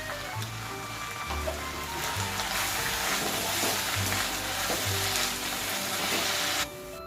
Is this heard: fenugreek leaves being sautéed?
yes